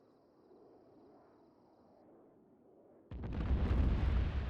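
Bombs explode in the Arma 3 video game, with a loud, rumbling blast bursting in after about three seconds of low, quiet background hum and continuing through the end.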